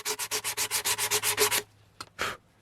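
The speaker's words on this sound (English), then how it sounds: "I want to sand until that goes away" Rhythmic hand sanding of a 3D-printed helmet replica, about a dozen quick even back-and-forth strokes close up, then a pause and two short scrubs alone in a quiet room.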